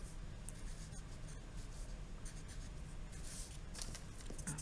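A pen scratches out numbers on paper during a math lesson, a faint, steady, close scratching with small pauses and no talking.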